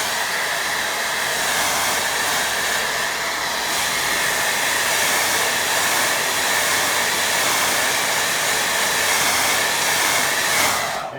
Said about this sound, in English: Oh, quick blast with dryer.